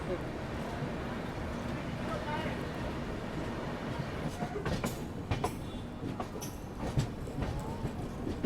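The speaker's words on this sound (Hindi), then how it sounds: "बांद्रा बरौनी अवध एक्सप्रेस।" Bandra Barauni Awadh Express running, heard from on board as a steady broadband rumble with scattered clicks and knocks of the wheels and carriage, continuous throughout at moderate level.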